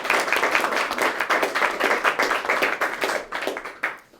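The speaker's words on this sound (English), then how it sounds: "could we all give a round of applause" A museum audience applauds steadily, many hands clapping densely and fairly close, fading out after a few seconds.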